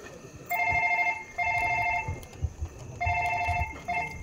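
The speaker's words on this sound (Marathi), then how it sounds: "ताई, मिलिंदचा फोन आहे." A telephone rings on stage during a Marathi play, with repeated electronic ring bursts in a steady on-off rhythm, fairly loud over a quiet room murmur.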